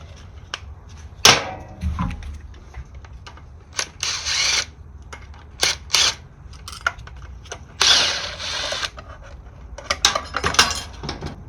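A power tool spins out two 10mm bolts holding the tube bracket on a Toyota A131L automatic transmission, giving several short whirring bursts separated by pauses and metallic clinks, close by.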